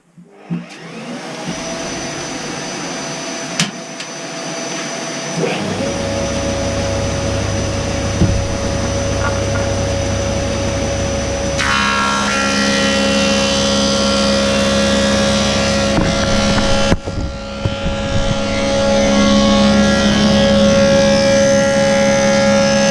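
A woodworking machine starts up to straighten a wooden board, a steady loud motor drone that grows fuller and busier partway through as the board is fed, then briefly drops out before resuming.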